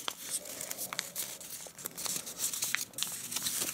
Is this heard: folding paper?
yes